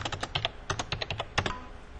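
Rapid keystrokes on a computer keyboard used for hotkeys in accounting software, a close series of crisp clicks in an uneven rhythm with a couple of brief pauses.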